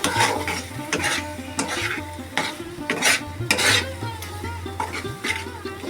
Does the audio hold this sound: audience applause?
no